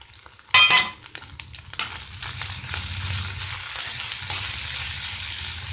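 Ridge gourd and prawns with coconut stir-frying in a pan: a sharp clatter of stirring early on, then a continuous moderate sizzle with occasional light scrapes.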